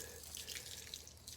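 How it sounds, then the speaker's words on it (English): Water trickles gently from a hose onto a tray of sprouting fodder seeds, a soft, steady dripping and splashing that stays faint and continuous throughout with no voices. "I'm gonna grab this hose, just enough water that comes out"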